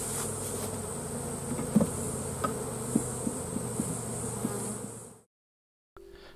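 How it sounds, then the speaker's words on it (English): Dense, steady buzzing of many honeybees close by at an opened hive with chalkbrood-infected frames, a continuous swarm hum with faint knocks and clicks, cutting off abruptly near the end. "I'm now proceeding to shake all the bees from the chalkbrood infected frames into this particular hive."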